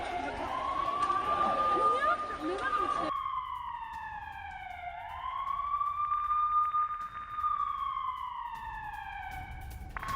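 A police-style siren wails in repeated rising and falling sweeps, loud and continuous, at first over crowd chatter and then almost alone.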